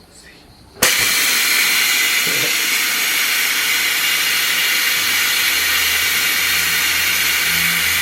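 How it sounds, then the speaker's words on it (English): Steam hisses loudly and steadily from the release valve of a Tefal 6-litre pressure cooker as pressure is let out, bursting on abruptly after a quiet start and holding strong with no talking. "Gradually turn the operating valve A, adjusting the speed that the pressure is released"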